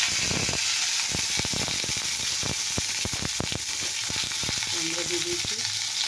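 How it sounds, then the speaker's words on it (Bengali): Potol, the pointed gourd, frying in hot oil with five-spice tempering and dry chillies gives a steady close sizzle, with sharp crackles and spits scattered throughout. A few stirring scrapes come through, and nobody speaks. "এবারে পটলটা দিয়ে দেবো ভেজে"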